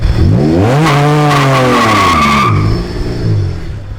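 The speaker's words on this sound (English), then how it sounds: "Do you think it will do a burnout? Try it." A junkyard-rebuilt Honda NSX does a burnout, its tires squealing loudly and continuously for several seconds over a strained, rising engine note that then settles back.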